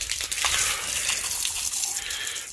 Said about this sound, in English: Rinse all of that crap off. New hose, the good hose, and it's longer than the old hose.